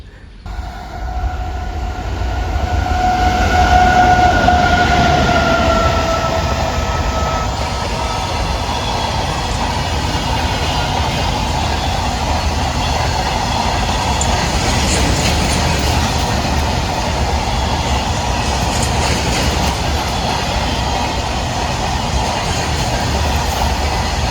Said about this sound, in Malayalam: കോയമ്പത്തൂരിൽ നിന്ന് മംഗലാപുരത്തേക്ക് പോകുന്ന ഇൻ്റർസിറ്റി സൂപ്പർ ഫാസ്റ്റ്.